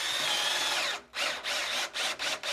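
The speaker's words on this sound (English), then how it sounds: "So I'm gonna drill a hole in the stud up here so I can route it behind." A power drill whirs loudly and steadily, then stops and restarts in several short bursts as it bores into a wooden wall stud.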